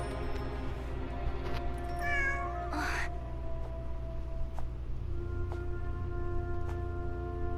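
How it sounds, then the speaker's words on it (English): A cat lets out a single drawn-out, wavering meow in a game scene, heard clearly over a steady background of sustained musical tones and a low hum. "It's a cat!"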